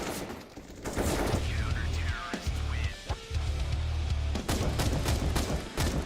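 Gunfire from a Counter-Strike: Global Offensive college match, Faulkner vs. Purdue, including shots from a sniper rifle. The rapid, dense bursts of shots keep going for the whole clip, with sharp cracks over a constant loud game din.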